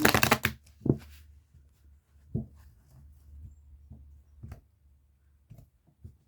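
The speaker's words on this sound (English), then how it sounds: "And I think one more shuffle will be good for you." Cards riffle quickly at the start, followed by scattered soft taps and handling noises in a quiet room.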